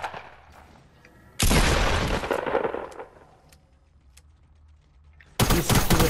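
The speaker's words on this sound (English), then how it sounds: "Sniper shots." Two loud, sharp sniper rifle blasts in Fortnite, one early and one near the end, each a sudden crack with a decaying tail, separated by quieter background game sounds.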